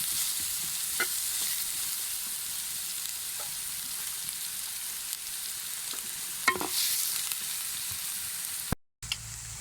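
Cardamom tempers in hot oil with a steady, fairly loud sizzle throughout, broken by a few faint pops and light clicks, then a brief dropout near the end.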